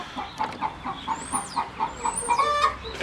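A hen sings the egg song after laying, a rhythmic series of close clucks rising into louder cackles over about three seconds.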